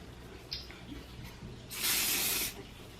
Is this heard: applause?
no